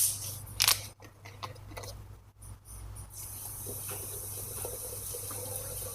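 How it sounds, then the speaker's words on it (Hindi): Sprite poured into a glass of homemade mint margarita, a close fizzy, watery stream and splashing with soft bubbling, fairly steady after a brief clatter at the start, with no talking. "उसके बाद हम इसमें ऐड करेंगे स्प्राइट।"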